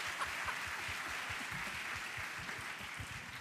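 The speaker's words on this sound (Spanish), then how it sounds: "Con un fuerte aplauso." A small crowd at an awards ceremony claps, a faint, even patter of many hands heard from a distance throughout.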